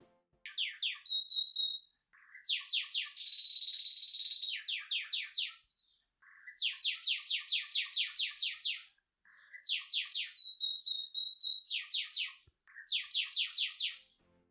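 A male canary sings in bursts of rapid, bright trilled phrases, several rolling sequences separated by short pauses, clear and close with no other sounds.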